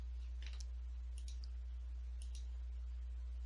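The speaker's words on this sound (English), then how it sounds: "so we will double click" Computer mouse clicks at a desk: a few faint, crisp clicks in quick pairs against a steady low electrical hum, no talking.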